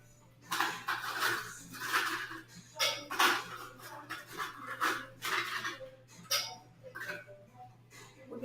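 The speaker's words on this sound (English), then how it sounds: "We're going to stir. Stir, stir, stir." A bar spoon stirring the High Horse rum cocktail in a mixing glass, a steady run of soft clinks and swishes repeating roughly every half second, close and quiet, over a low constant hum, no speech.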